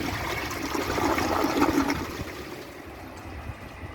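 A 1952 Briggs Prince toilet flushes down a washcloth and a grocery bag together, a broad rushing swirl of water that swells, then drains away into a quieter trickle as the tank refills.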